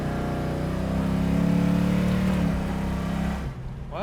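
A 1970 Dodge Dart's engine drones steadily and swells slightly as the car accelerates on the road, then drops off abruptly near the end.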